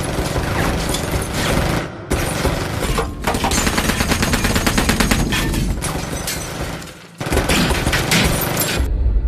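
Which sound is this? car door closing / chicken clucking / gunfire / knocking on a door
gunfire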